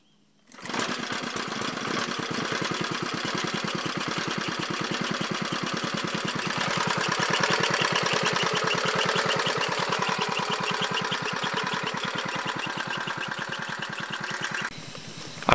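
A small engine on a pesticide sprayer starts and keeps running in a chili field, a close, loud, steady buzzing drone that holds evenly for many seconds before the pitch drops slightly near the end.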